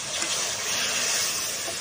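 Water poured into crab masala frying in a pan, a steady hissing, bubbling sizzle that holds at an even level for the whole moment, close and loud, with no voices.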